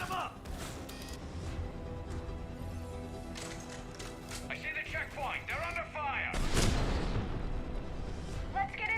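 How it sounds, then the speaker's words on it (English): Gunfire in the Mass Effect 3 video game, with sustained shots and booms from a firefight layered with game music and voices, growing louder and denser toward the end. "They're under fire."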